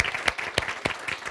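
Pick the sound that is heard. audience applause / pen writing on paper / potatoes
audience applause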